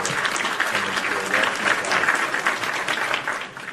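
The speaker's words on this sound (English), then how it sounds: "another round of applause for" Audience applause during a live wrestling talk show: dense, steady clapping that holds at an even loudness for several seconds before easing slightly at the end.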